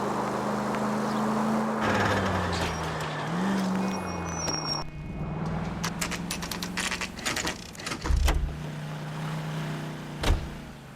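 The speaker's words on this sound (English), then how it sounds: "That's the car, Cole. Just pulling out of the drive." A car in the video game L.A. Noire pulls out of a driveway, its engine holding a steady hum that rises and shifts in pitch, followed by a few sharper thuds and bumps near the end.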